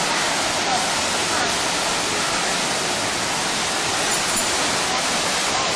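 A waterfall at a Journey to the West themed attraction in Guangzhou pours in a loud, unbroken hiss and rush that stays steady throughout, with no voices over it.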